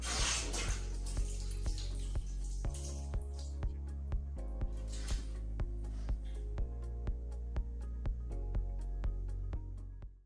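A water heater tank fills with water as a low steady rush plays under an even run of regular dripping ticks that lasts about ten seconds, with no voices.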